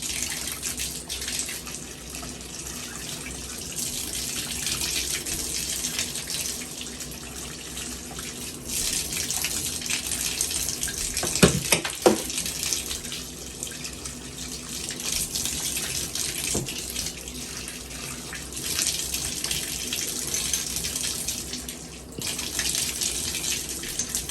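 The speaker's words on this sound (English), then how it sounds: "we're going to turn on the tub, and we're going to drain out" Water gushes steadily as a washing machine tub drains through its lines after an F20 drain fault, a continuous rushing flow with a couple of brief knocks near the middle and no talking.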